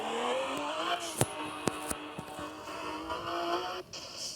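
A video game car engine in Car Parking 3D hums and revs with a synthetic, steady tone, punctuated by a few sharp clicks and brief tire squeals.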